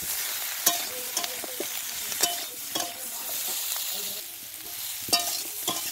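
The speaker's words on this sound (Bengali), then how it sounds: "এবারে এইগুলো সব কিছু ভালো করে আরেকবার ভেজে নেব।" A spiced mixture of Malabar spinach stems and small puti fish fries in a pan, with a continuous hiss. Stirring scrapes and clinks recur irregularly up close.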